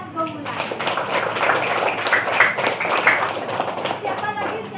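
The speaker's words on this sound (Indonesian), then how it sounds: "Tepuk tangan buat Gumulan." Classroom students clapping together during a lesson, a short burst of overlapping hand claps lasting a few seconds, close and fairly loud, with voices mixed in.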